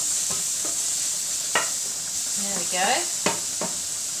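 Plain mushrooms seasoned with salt and pepper browning in a pan, a soft continuous sizzle under scraping utensil strokes and brief clatters, with a person speaking briefly nearby.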